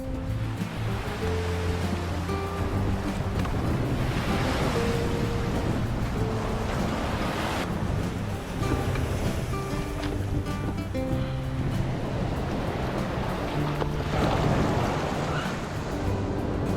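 Sea waves break and wash over an island shore in repeated surges, a broad rushing hiss that swells and fades in a loose rhythm, moderately close and steady, with wind in the background.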